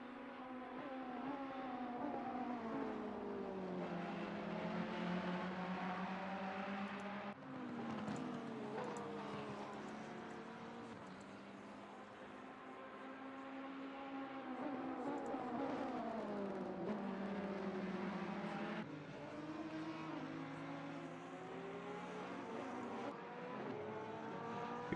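GT race car engines at Brands Hatch in Assetto Corsa Competizione whine steadily through upshifts and downshifts, pitch sweeping up and down in repeated cycles, loud and continuous.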